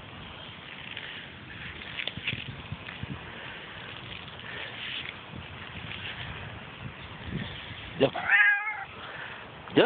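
A cat meows intermittently near a person who keeps calling to it, the cries mixed with steady wind or background rumble and a sharper, louder meow near the end.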